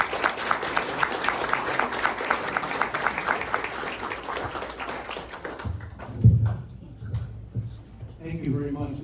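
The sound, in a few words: audience applause welcoming speaker Dr. Dick Lathrop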